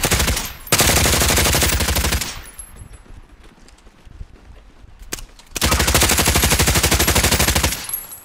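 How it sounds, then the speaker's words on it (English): Rapid automatic gunfire in Call of Duty: Modern Warfare on the Caldera map, two loud, sustained bursts of about a second and a half and three seconds, with quieter distant shots and ambient noise in the gap between them. "there's shots behind us"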